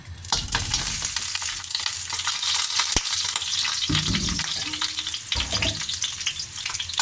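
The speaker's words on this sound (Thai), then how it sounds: "จากนั้นเราใส่ตีนหมูเข้าไปเลยจ้ะ" Pork trotters stir-frying in a hot pan for a braised pork dish, giving a loud, steady sizzle throughout with occasional scraping bursts from stirring. No one speaks.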